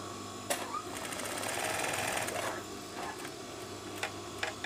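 Sewing machine stitching a hidden buttonhole placket so the buttons sit concealed inside the garment, running steadily in a close, continuous mechanical whir with a brief pause and restart.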